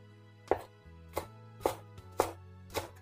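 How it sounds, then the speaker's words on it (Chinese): A knife cuts scallion into segments on a cutting board with five evenly spaced, crisp chops over a faint steady hum. "大葱切段"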